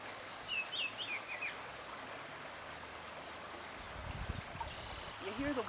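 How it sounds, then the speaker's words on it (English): A stream gurgles and trickles over stones steadily in the background, faint, with birds chirping over it and some murmured talk along a wildflower trail. "You hear the water gurgling along over the stones."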